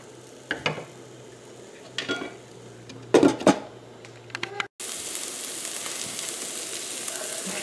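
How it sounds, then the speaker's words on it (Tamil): A spoon clinks and scrapes against a pan as egg and ridge gourd are stirred together, a few separate strokes at first, then a rush of steady sizzling frying. "முட்டையை நல்லா சுற்றி கிளறி விட்டு நல்லா பிரட்டியாச்சுங்க."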